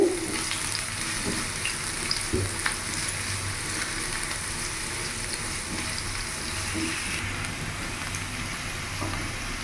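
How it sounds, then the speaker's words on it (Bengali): A large onion shallow-frying in hot oil for a restaurant-style kadai paneer gives a continuous close sizzle and crackle, with light stirring clicks and no voices. "এখানে আমি বড় সাইজের একটা পেঁয়াজ নিয়েছি। এটা হালকা ভেজে নেব, শ্যালো ফ্রাই"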